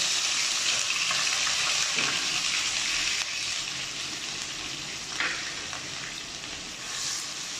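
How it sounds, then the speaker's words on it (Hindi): Onions dropped into hot oil for restaurant-style moong dal fry with a continuous crackling sizzle, close and steady, easing slightly partway through with occasional stirring scrapes. "ये ऑयल हमारा गर्म हो चुका है, इसमें हम प्याज डाल देंगे।"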